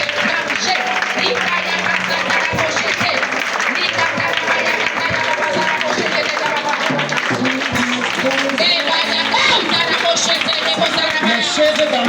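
A congregation at a prayer and deliverance service applauds and acclaims in a continuous loud wash of clapping and raised voices, with a dense crowd babble over the whole stretch.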